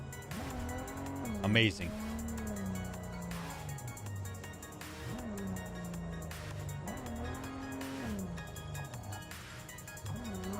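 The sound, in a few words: car driving in video game Cyberpunk 2077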